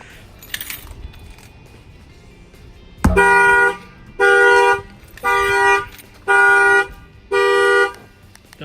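Aftermarket alarm on a 2019 Dodge Ram 1500 set off by a bang on the front tire: one dull thud, then five loud, evenly spaced electronic horn-like tones, each about half a second long.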